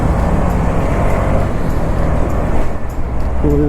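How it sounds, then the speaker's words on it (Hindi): Steady road traffic on the Seelampur flyover, a dense continuous rumble of cars and buses close by with a low engine hum rising near the end. "यहाँ बेमतलब का ट्रैफिक होता है"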